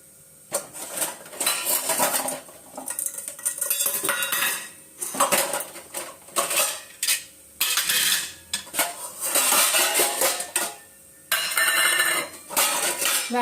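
Steel utensils and tiffin containers clatter and clink close by as a tiffin is packed at home, in repeated bursts of rattling metal separated by short pauses, with no talking.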